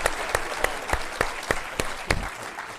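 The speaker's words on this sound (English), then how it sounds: "Let's give him another round of applause." Audience applause at an Army Surgeon General's update event, with sharp rhythmic claps standing out over a steady wash of clapping, moderately loud and without talk.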